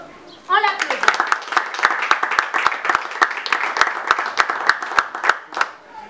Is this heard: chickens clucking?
no